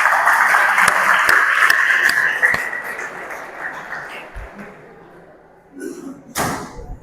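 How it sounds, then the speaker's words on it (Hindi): A crowd of students claps in a burst of applause at a road safety talk, fading out over a few seconds, followed by some shuffling and a couple of thuds. "एक बार जोरदार तालियां"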